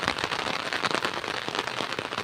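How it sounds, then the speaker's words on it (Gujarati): Steady heavy rain pours down in a village by a swollen river, a dense continuous patter and hiss with no pauses, fairly close and even. "વરસાદ ખૂબ વરસ્યો સવારનો, હજી શરૂ જ છે"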